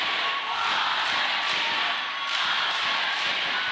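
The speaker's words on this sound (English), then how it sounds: "I can see even French skaters to my right are clapping along with the rest of the crowd" A crowd at a roller derby track, Argentina versus France, claps along in a rhythmic, rolling wash of applause and crowd noise heard from a distance.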